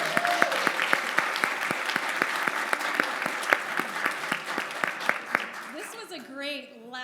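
Audience applauding at an event, steady dense clapping that is loud and close with sharp individual claps standing out, fading out after about six seconds as a voice begins speaking.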